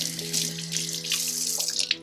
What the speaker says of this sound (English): you could just rinse it with some water